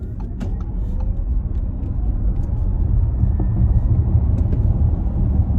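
An Audi e-tron electric car accelerates hard from 0 to 60 in boost mode, producing a steady low cabin rumble and road noise that slowly builds in loudness over several seconds.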